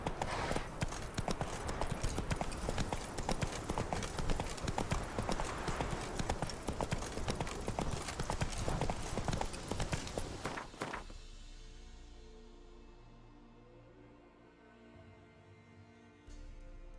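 Roach the horse's hooves clip-clop at a quick, steady trot in The Witcher 3, loud and continuous for about eleven seconds before stopping abruptly, leaving quiet game ambience.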